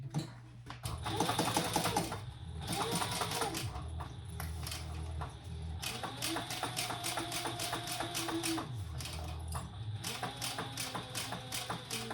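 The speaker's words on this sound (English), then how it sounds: "now we're going to top stitch down this side on the inside lining" A sewing machine top stitching the inside lining of a crossbody bag, with rapid mechanical needle clatter in several runs of varying speed broken by short pauses, close and alone without speech.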